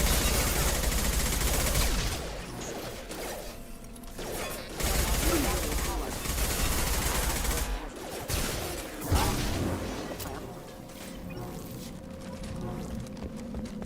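Gunfire in Mass Effect 2 as hostile security systems attack at a colony, with bursts of shots and mechanical clatter mixed into loud game music and effects that fade toward the end.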